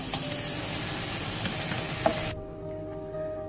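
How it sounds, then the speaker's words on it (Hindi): Boiled rice sizzles and scrapes as it is stirred into masala in a hot pan for fried rice, a steady close frying hiss that cuts off abruptly partway through. "इसमें हम चावल डाल देंगे उबले हुए।"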